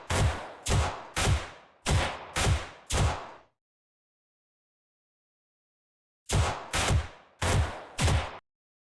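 Pistol gunfire from a video game, with elite and fodder enemies being shot down: six sharp, close shots in a steady rhythm, a few seconds of silence, then a second burst of five shots.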